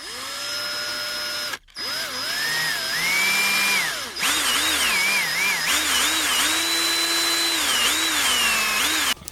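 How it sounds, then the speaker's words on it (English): A cordless power screwdriver backs Phillips head screws out of a JVC MX-J700 subwoofer, its motor whining steadily and bending up and down in pitch through several close, loud runs with short pauses between them. "4 screws to get the subwoofer out, which I'll show you how that's done right now"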